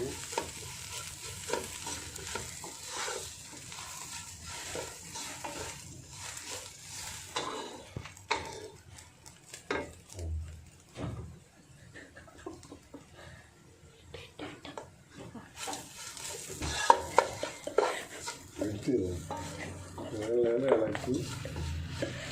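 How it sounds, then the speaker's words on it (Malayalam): Cloves and spices frying in a pan on a lowered flame, a soft sizzle with intermittent scraping and stirring, faint and close, while a voice speaks quietly over it. "എന്നിട്ട് നല്ലോണം ഇളക്കണം."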